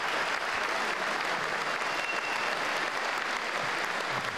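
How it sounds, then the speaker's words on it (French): Steady applause from an audience at a charity cheque presentation ceremony, even continuous clapping from a roomful of people throughout. "Mélanie, on peut applaudir."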